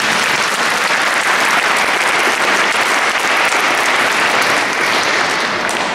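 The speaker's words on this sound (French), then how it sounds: "Applaudissez la première question." A conference audience bursts into loud, sustained applause, a dense wash of clapping that holds even and unbroken for several seconds.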